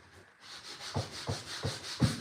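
An old wooden bird feeder is sanded by hand with coarse 80-grit sandpaper, giving soft, close rasping strokes that settle into a regular rhythm of about three per second, with no voices.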